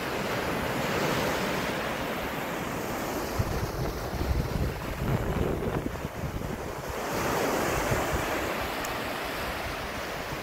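Ocean waves surge and break steadily on a beach, a dense, continuous wash of surf mixed with wind buffeting the microphone, with no voices.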